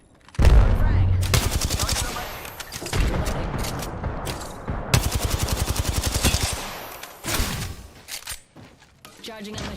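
Rapid automatic gunfire in Apex Legends ranked play, several loud bursts of fast, close shots separated by short pauses, with sharp impacts and a brief clatter near the end.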